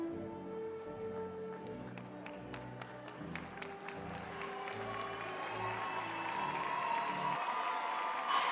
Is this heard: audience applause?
yes